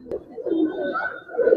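A pair of pure Kaldom pigeons coos close by in a few soft, throaty rolling phrases, with a brief sharp click near the start.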